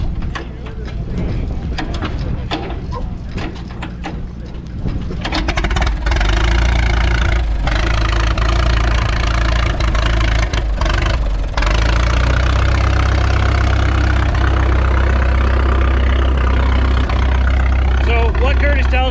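A 1937 antique tractor engine idling at an antique power show, a loud steady low rumble that grows heavier partway through and runs continuously, with voices talking over it.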